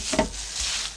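Soap trays tapped against a table during handmade soap making, giving a couple of soft, dull knocks close by with faint rubbing in between, no talking.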